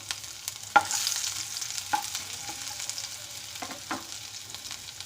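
Crushed ginger and garlic sizzle in hot oil with cumin in a pan, a steady soft frying hiss with a few sharp spatters and stirring clicks, fairly quiet and close with no talking.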